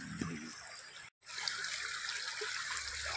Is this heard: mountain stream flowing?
yes